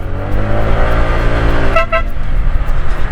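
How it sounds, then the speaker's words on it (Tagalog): Two short car horn toots sound close together at a sharp mountain-road curve in Mountain Province, Philippines, over the steady hum of the moving vehicle's engine and road noise. "Busina tayo dahil sharp curve yun."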